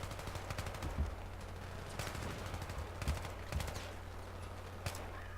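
Gunfire in the Battlefield video game: rapid distant bursts of automatic fire and scattered shots over a steady low rumble, faint and continuous through the clip.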